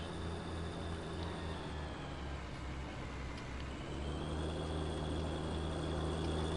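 A 21-year-old tractor in Farming Simulator 19 runs with a steady low engine drone and a constant hum, continuous and even throughout.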